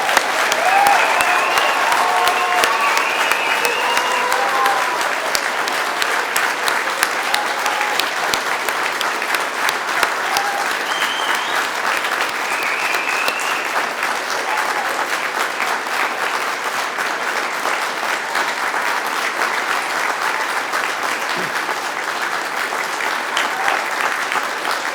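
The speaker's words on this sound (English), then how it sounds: "give them the biggest round of applause that they've had all day" A large audience at a university degree ceremony in Dublin gives the graduates a long, loud round of applause, with dense steady clapping and a faint crowd murmur throughout.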